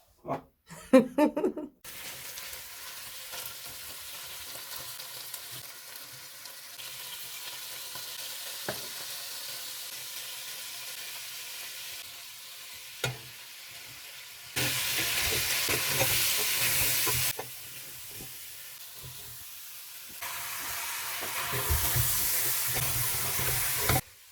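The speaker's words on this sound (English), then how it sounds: "We start with the frying of the meat together with loads of black pepper, paprika, and onions" Meat frying with plenty of black pepper, paprika and onions for a Christmas dinner, a quiet steady sizzle with occasional stirring knocks that swells into louder hissing bursts in later stretches, no talk.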